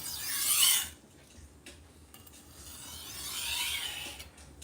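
Knives rubbed along a sharpening stone give a bright, close rasping stroke at the start, then quieter scraping passes that swell again toward the end, with no talking.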